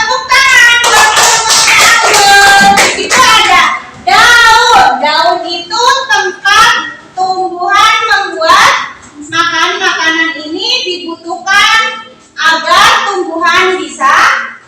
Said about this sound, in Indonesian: Tepuk tangan buat kelompoknya anggur.